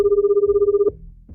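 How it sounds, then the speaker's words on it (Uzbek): A telephone rings with a rapid warbling electronic trill that stops abruptly, followed by a brief low clunk, close and loud with no speech. "O'rmon rahbari sher qamoqxonaga qo'ng'iroq qilmoqda."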